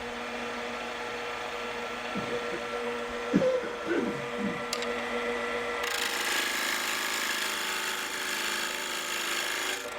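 Wood lathe turning a vase while a half-inch bowl gouge cuts, giving a steady mechanical whir with a few scraping bursts. Near the end a brighter, hissing cutting noise takes over, and no one speaks.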